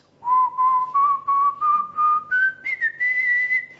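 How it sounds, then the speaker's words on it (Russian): A single person whistles a clear, rising melody of about ten sustained notes, steady and close, with short gaps between phrases and no talking. "вы свистите красивую мелодию там"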